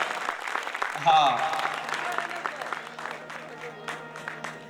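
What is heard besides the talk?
audience applause for musician Rameshbhai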